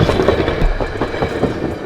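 Mountain train rolling past close by, a loud, steady rumble with rhythmic wheel clatter throughout.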